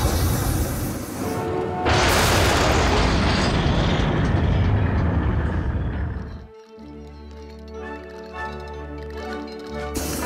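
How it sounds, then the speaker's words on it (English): Rocket boots firing in the Sam and Max video game: a loud, roaring jet blast that surges up and holds for several seconds, then cuts off abruptly into a lower mechanical hum with tonal game music. "Rocket boots, activate!"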